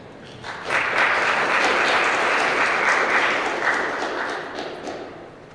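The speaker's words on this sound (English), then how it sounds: "With a huge round of applause." Sustained audience applause at a satellite workshop, loud and steady for several seconds before slowly tapering off.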